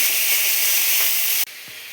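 Chopped onions fry in a pan for a Bengali-style chicken dish, giving a loud, steady, close sizzle that cuts off abruptly near the end and leaves a quieter hiss.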